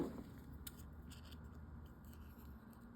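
Scissors snip through paper while cutting out a figure for a journal cover page, a steady close crisp cutting texture lasting throughout with a few sharper snips, no talking.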